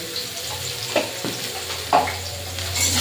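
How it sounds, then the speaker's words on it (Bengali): Raw mango pieces with salt and turmeric are stirred in a pan, giving a few soft scraping strokes over a low steady sizzle, close and moderately quiet, with no voices. "এবারে আমটা ভালো করে নাড়াচাড়া করতে থাকবো।"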